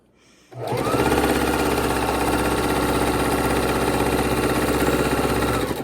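A sewing machine stitches a quilt block, starting up after a brief quiet moment and then running in a loud, steady mechanical whir that continues without a break.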